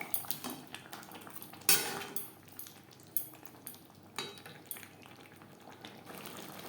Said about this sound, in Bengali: চিকেনের সাথে টমেটো বেশ ভালো করে মিক্সড করে দেবো।